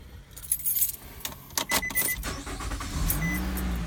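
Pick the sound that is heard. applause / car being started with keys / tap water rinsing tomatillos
car being started with keys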